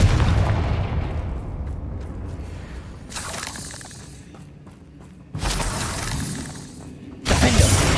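Confringo spell explosions in the video game Hogwarts Legacy: loud shattering bursts that crash in, decay, then strike again, three heavy blasts across a few seconds.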